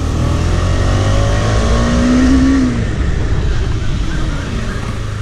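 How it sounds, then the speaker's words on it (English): A motorcycle fitted with an upgraded 320mm disc brake roars loudly with heavy wind rush, its engine note climbing and then dropping away as it slows hard near a speed breaker. "The 320mm disc has been upgraded, so we'll check the braking performance, how it performs."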